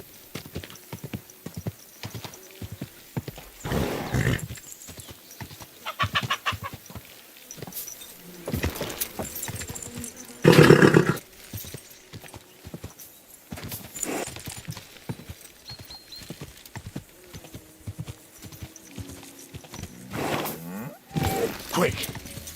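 Rhythmic clip-clop of horse hooves in the medieval video game Kingdom Come: Deliverance II, with an occasional whinny, close and steady, while a voice speaks now and then over the trotting.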